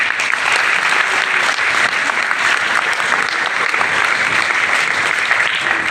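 An audience at a town hall celebration of Swami Vivekananda's birth anniversary claps loudly and continuously, a thick, even roar of many hands that holds steady for the whole stretch with no speech on top.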